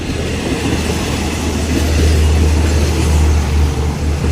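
A heavy, steady rumble of Thai diesel locomotive QSY 5233 arriving at a station, hauling express train 52 from Nakhon Lampang to Bangkok, with a low engine drone and faint wheel noise rolling past.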